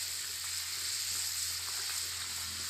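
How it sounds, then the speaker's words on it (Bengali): A Japani puthi fish curry simmers in a pan, giving a steady, close, hissing sizzle that stays even throughout with no talking. "ফুটুক একটু, ঝোলটা ফুটে গেছে, মাছ দিয়ে দিব"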